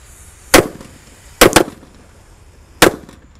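Kera raja firecrackers, four lit at once from inside the ground, burst outdoors in three sharp blasts, the middle one a quick double crack, each loud and abrupt with short gaps of quiet between.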